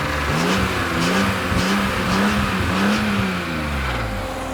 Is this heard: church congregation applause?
no